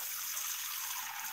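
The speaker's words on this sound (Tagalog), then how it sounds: "Bigyan natin ng tubig" Water pours steadily over cut eggplant in a home kitchen, a soft continuous splashing trickle that stays even and fairly quiet throughout.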